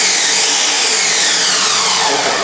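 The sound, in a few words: Ninja Mega Kitchen System blender chopping ingredients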